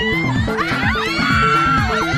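A group of women shriek and squeal excitedly in welcome, several overlapping high voices rising and falling together, loud and continuous with a rhythmic backing underneath.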